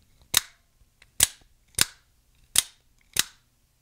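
An OTF knife blade firing out and snapping back, five sharp metallic clicks close to the mic, evenly spaced with short gaps of silence between them.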